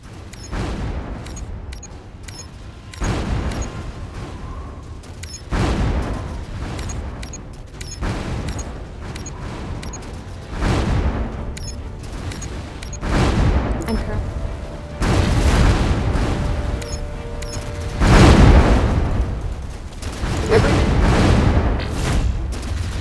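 Ship combat in the Anno 2070 strategy game: repeated booming gunfire and explosions roll through the whole stretch, growing louder toward the end, with a synthetic voice alert speaking over the battle.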